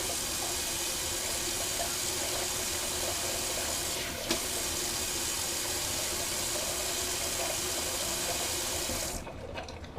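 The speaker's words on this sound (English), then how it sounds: "Just gonna rinse that alum off." Water runs steadily from a tap for about nine seconds, rinsing alum off after a shave, with a small knock partway through, and then the flow stops.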